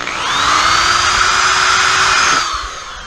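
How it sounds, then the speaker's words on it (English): A power drill bores a hole through the plastic airbox of a 1996 Suzuki RM250 two-stroke dirt bike, a loud steady whine rising in pitch for about two seconds and then cutting off sharply. "I'm just going to drill a hole right through the airbox plastic."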